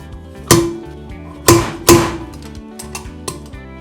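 Sharp metallic strikes on a bearing puller freeing a rear wheel bearing on a Ducati Multistrada 1260 Enduro, three loud ringing hits close together, then fainter taps.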